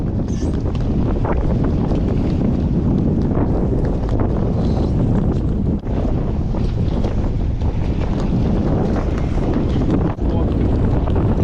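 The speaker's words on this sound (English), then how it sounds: "over 20 knots of wind right on our beam" Strong wind of over 20 knots buffets the microphone in loud, roaring gusts over the rush of water around a sailboat in the Menai Strait, continuous and rough throughout.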